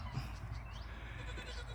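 Male goats penned together give faint, intermittent bleats over a steady low background hum, with no talking.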